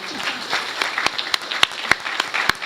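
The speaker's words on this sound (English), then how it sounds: "How about a round of applause again for those ladies?" Audience applause at a business conference session, a dense wash of clapping with a few sharper individual claps standing out, steady and moderately loud throughout with no voices.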